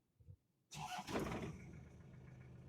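A modified Toyota Qualis with a rebuilt engine and push-button start cranks briefly and catches, then settles into a steady, close idle after a short silence.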